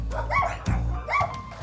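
Several dogs bark nearby at a rural shelter, two close pairs of loud barks about a second apart over a low steady hum.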